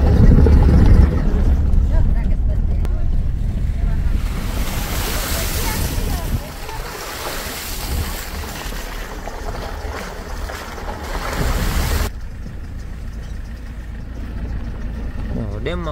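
Water rushes into a filled dam during heavy rain, a loud, broad, continuous roar with gusts of wind buffeting the microphone, and a voice talking over the rumble in places.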